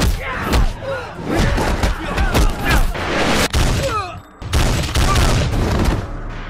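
Pistol shots ring out during a gangster film fight scene, a few sharp bangs and thuds mixed into busy action sound with music and voices throughout.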